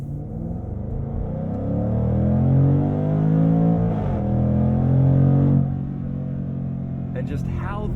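A 2021 Jaguar F-Pace SVR engine drones steadily while driving, its deep tonal note swelling and rising in pitch through the middle before easing back to a lower cruise.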